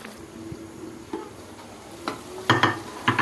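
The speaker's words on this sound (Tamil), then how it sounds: "காடை நல்லா மசாலாவோடு சேர்ந்து வதங்கிட்டுருக்கு" Quail sautés in masala in a pan with a soft, steady sizzle, broken by intermittent clinks and scrapes of a stirring spoon that grow louder toward the end.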